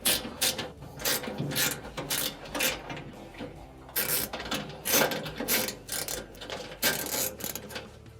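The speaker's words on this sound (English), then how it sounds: "we're going to use a 1/4-inch bit here and take off the screw" A screw on the underside of a dryer is backed out with a driver fitted with a 1/4-inch bit, giving a steady run of clicking, ratcheting turns at close range.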